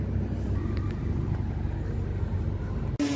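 Engine of a Mitsubishi Adventure running steadily with a low, continuous rumble as the thermostat switches the aircon on and the RPM rises, close and loud, cutting off abruptly near the end.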